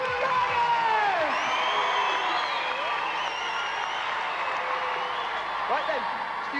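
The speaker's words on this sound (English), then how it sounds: "let's have a big round of applause for all the riders!" An arena crowd at a BMX riding event cheers, whoops and applauds for the riders, a busy mid-distance roar with shrill whistles and shouts layered over a commentator's voice.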